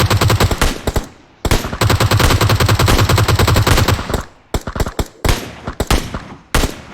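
Automatic gunfire from PUBG gameplay, loud sustained bursts of rapid shots with brief pauses, followed by scattered single shots and short volleys.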